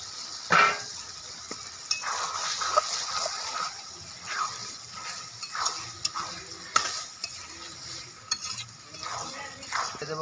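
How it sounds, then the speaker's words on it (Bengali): A spoon stirs chicken skin frying in oil with chopped tomato, giving soft intermittent scrapes and clinks against the pan over a faint, steady sizzle. "এবার নাড়িয়ে নেব। দিয়ে দেবো টমেটো কুচি,"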